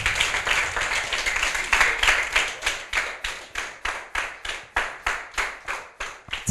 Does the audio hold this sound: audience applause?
yes